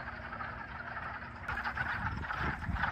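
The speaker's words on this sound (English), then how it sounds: "I can't get enough of these frogs. Frog radio." Frogs call from a pond in a dense, continuous chorus that is steady and moderately loud, swelling a little fuller partway through.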